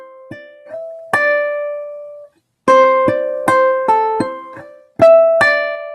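Slow ukulele phrase of plucked notes joined by hammer-ons, pull-offs and slides, each pluck ringing clearly with pitch bends between them, played alone with short gaps.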